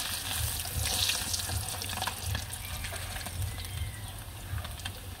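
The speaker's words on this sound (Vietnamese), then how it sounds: "Cái này mình chiên cá cơm với cá lồng tông nha" Anchovies and small fish fry in hot oil, a continuous crackling sizzle with scattered pops, close and fairly quiet, with no talking.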